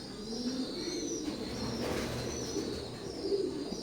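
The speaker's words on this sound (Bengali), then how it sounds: "স্ক্রিনে এখন যে কবুতরের বাচ্চা জোড়া দেখতে পারতেছেন" Young Teddy 128 pigeons coo in low, repeated throaty murmurs close by, with faint chirps in the background and no talking.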